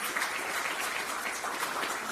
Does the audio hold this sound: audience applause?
yes